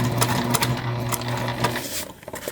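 A sewing machine runs steadily, stitching a straight fabric seam at a quarter-inch allowance for a bag, with a continuous close motor hum and rapid needle chatter that eases off near the end.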